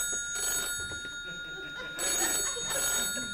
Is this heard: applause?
no